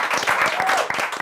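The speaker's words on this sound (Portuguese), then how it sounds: "Uma salva de palmas!" Studio audience applause after a comedy talk show segment with Hermes e Renato comedians, a dense, steady wash of clapping at close range with faint voices mixed in.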